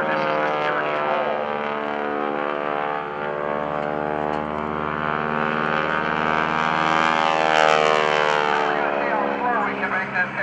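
A loud propeller airplane drones continuously nearby at an airshow, its engine pitch rising and falling as it performs an aerobatic roll.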